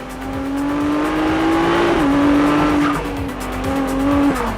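A loud Ferrari 296 GTB turbo hybrid engine revs steadily with a droning, slightly rising pitch, dipping briefly as it shifts, with faint tire noise underneath.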